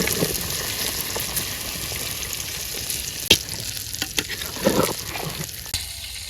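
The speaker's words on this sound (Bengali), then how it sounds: "বেগুন তরকারিটা কষানি হয়ে গেছে আমি একটু জল দিয়ে দেবো জল দিয়ে দিলাম" Eggplant curry fries in a pan and sizzles hard after water is added, with a steady dense crackle and a few sharp stirring clicks and pops, close and alone without talk.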